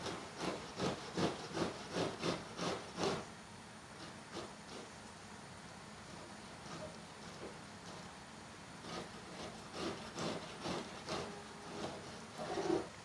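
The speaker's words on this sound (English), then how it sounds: "we will grate our beets on the big side of the grater" Beets grated on the coarse side of a box grater, a quick series of rhythmic rasping strokes, a pause, then another run of scraping strokes, close and fairly quiet.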